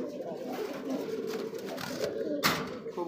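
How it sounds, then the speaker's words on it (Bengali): Pigeons of a red Raj Golla breed cooing close by in low, throaty repeated calls, with a brief rustle or handling noise partway through. "এখন কবুতরটা একটু দেখাই, একটা ধরে"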